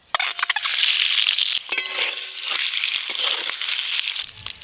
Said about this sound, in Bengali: এবার ডিমগুলো একটু ভালো করে লাল লাল করে ভেজে নেব।